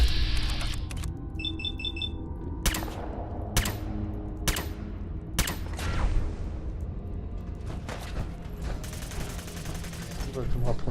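Gunfire in the video game Fallout 4: several sharp shots, some in quick pairs, over a busy background of game music and mechanical clatter, with a buzzing burst near the end.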